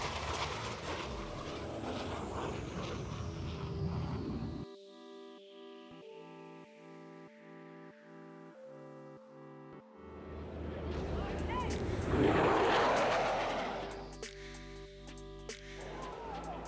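A military aircraft makes a high-speed pass at the NAS Key West air show: a roar sweeps down in pitch and fades, a quieter lull follows, then a second loud roaring surge builds and rushes past.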